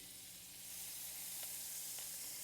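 Butter sizzling in a hot skillet beside a pork chop, a soft, steady hiss that swells slightly after the first moment and holds evenly.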